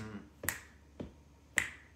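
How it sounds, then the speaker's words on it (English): Three crisp finger snaps, evenly spaced about half a second apart, sharp and close with quiet gaps between them, as clap-and-snap accompaniment to a song at an all-request music night. "Oh, claps too, and snaps."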